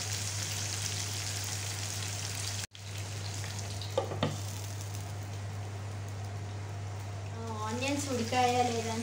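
Drumsticks frying in oil with onions in a pan: a steady, close sizzle throughout, broken by one sharp cut-off and a light clink, with a voice rising faintly over the hiss near the end.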